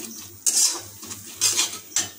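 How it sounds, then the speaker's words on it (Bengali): A metal spatula scrapes and knocks against a pan while stirring masala with a little added water for chicken ghugni, three or four sharp scraping strokes with quiet pauses between. "একটু খুন্তিতে ভালো করে নাড়িয়ে নেব"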